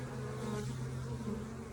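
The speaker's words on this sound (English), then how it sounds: "these are the worker bees" Worker honeybees in a hive hum in a steady, close, low-pitched buzz that holds without a break through a short moment.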